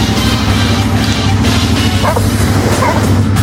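A dog barks and yips at a rider on a CFMoto 450 MT motorcycle, several loud close barks over the bike's constant engine drone.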